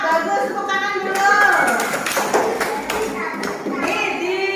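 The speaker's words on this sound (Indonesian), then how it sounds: "Bagus, tepuk tangan dulu." Schoolchildren in a first-grade classroom clap together in a short burst of rhythmic hand claps, mixed with children's voices and a teacher talking.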